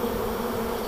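Honeybees that have been driven off with smoke fill the air with a steady, close, dense buzzing that holds at an even level throughout, with no voices.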